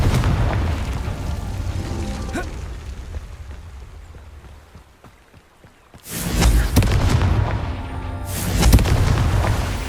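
Confringo blasting curse going off in Hogwarts Legacy: a sudden loud explosive boom erupts after a quieter stretch, followed by rumbling debris and a second heavy blast near the end.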